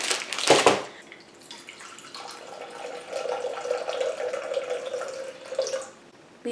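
Water pours into a blender for an acai bowl, a brief splash at first and then a steady trickling stream that runs for several seconds before tapering off, close and fairly quiet.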